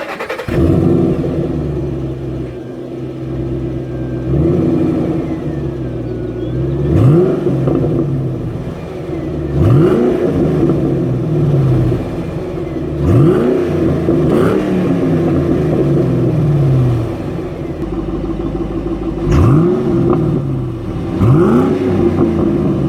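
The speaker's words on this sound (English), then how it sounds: "start this up, and get a little exhaust clip from this" A 2007 Ford Mustang GT 4.6L three-valve V8 rumbles at idle, then is revved repeatedly in sharp bursts, each rising and falling, loud and close with a throaty exhaust note.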